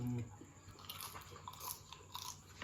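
Someone chews crispy baked chicken skin close to the microphone, with quiet crunches and soft bites scattered through a faint background and no talk.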